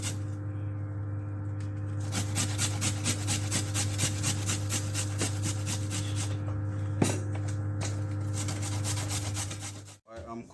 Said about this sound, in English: Look at it, how it's running real fast.